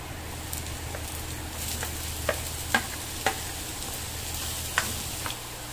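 Garlic sautéing in a pan with ginger added, a quiet steady sizzle with a few sharp taps and clicks of a utensil against the pan, close and faint, no talking.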